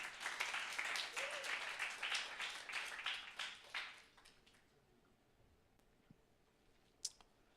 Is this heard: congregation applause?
yes